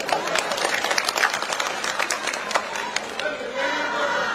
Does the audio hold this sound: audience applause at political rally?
yes